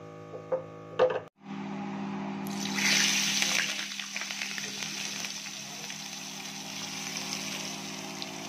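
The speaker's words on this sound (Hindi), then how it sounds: "ये देखिए हमने तड़का लगा दिया है।" A loud burst of sizzling and crackling as spices hit hot oil for a tempering (tadka) for turnip and spinach, settling into a steady frying hiss with no talking.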